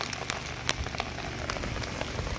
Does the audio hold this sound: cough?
no